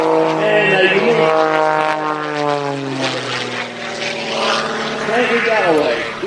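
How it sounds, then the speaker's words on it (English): A propeller aerobatic plane, an Extra with a Thunderbolt engine and custom prop, drones loudly with a rising and falling engine pitch as it rolls and tumbles at an airshow, while a commentator talks over it. "It's a Thunderbolt engine and a custom prop, giving it a very unique sound and a unique"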